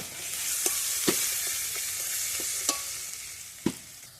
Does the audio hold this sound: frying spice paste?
yes